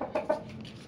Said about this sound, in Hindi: प्योर बर्मी मुर्गा इंपोर्टेड है